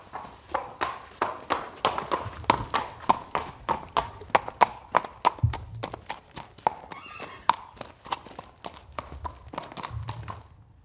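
Breeding stallion's hooves striking the ground in a steady walking clip-clop, about twenty crisp, evenly spaced hits, fairly close and moderately loud, with a soft snort partway through and low background murmur.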